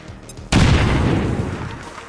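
A grenade detonates in XCOM 2 during a tactical firefight, a single loud, sudden boom that bursts in at full strength and then rumbles and crackles as it slowly fades, with a quieter, murky lead-in before the blast.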